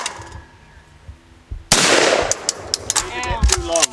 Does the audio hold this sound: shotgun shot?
yes